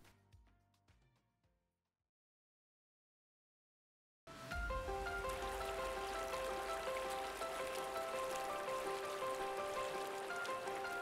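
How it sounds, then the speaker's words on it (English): A stream gurgles steadily through morning mist, a dense, even wash of flowing water with bright splashy detail that starts abruptly after a few seconds of near silence and a faint fading sound. "The sound of the stream softly gurgling through the morning mist"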